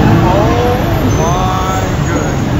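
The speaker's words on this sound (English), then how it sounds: "That's an antique Thai car." Engine noise and passing vehicles in busy Bangkok street traffic during Songkran, a loud continuous rumble with rising and falling revs from nearby motors, beside an antique Thai car.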